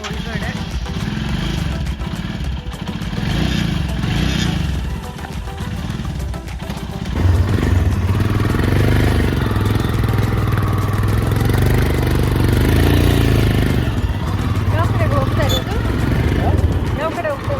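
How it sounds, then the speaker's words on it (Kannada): A rented Himalayan motorcycle in Manali idles with a steady, loud mid-pitched engine rumble under talking voices, growing fuller partway through. "ನೋಡಿ ಇದೇ ಬೈಕ್ಗೆ ನಾವು ರೆಂಟಲ್ ತೊಗೊಂಡಿರೋದು, ಹಿಮಾಲಯನ್ ಬೈಕ್"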